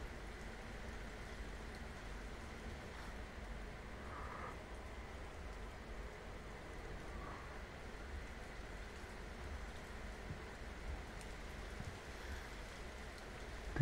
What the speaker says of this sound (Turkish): aşırı bir yağmur ve rüzgar var